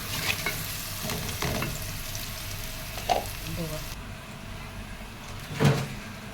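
Onion frying in a pan sizzles steadily up close, with several stirring scrapes and a couple of louder knocks against the pan.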